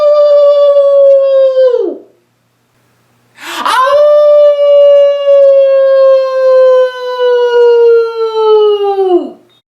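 A child imitates a wolf howl through cupped hands, giving two long, loud, steady whoo tones close to the microphone. Each ends in a downward slide, with a short breathy pause between them.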